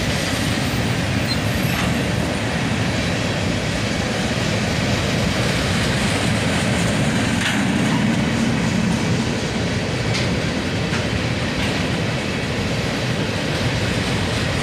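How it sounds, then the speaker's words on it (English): A southbound manifest freight train rolls past continuously, a steady rumble of wagons with faint clicking over rail joints, close and fairly loud throughout with no voices. "Another manifest train, heading southbound"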